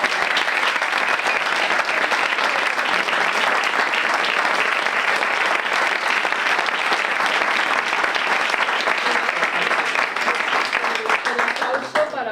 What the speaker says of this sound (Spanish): quería pedir un fuerte aplauso para Concha